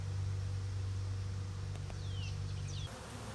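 Honeybees trapped inside a car door make a low, steady buzzing drone that fills the cavity, then cuts off abruptly near the end, leaving a faint hum.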